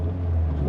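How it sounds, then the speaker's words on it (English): A 1999 Ford Escort ZX2 with its Zetec engine runs as a steady, close, low rumbling idle with a slight rev, a continuous motor drone with no talking over it. "Let's fire up the Zetec engine then."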